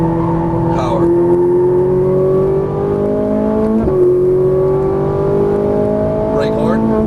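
Ferrari 458 Italia V8 engine on a race track, heard from inside as it climbs in pitch, dips sharply on a shift or brake, then winds up again, loud and continuous with a brief voice over it.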